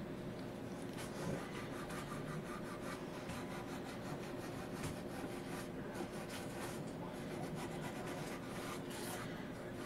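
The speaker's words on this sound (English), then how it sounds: "Buff your seam lines." Continuous soft rubbing and rasping as seam lines on unfired ceramic greenware are buffed smooth, a steady close scratchy texture with no pauses and no talking.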